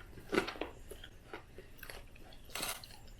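Crispy pork belly seasoned with pepper, ginger and lime being bitten and chewed up close, several sharp crunches followed by softer chewing, with a loud crackling bite near the end and no talking.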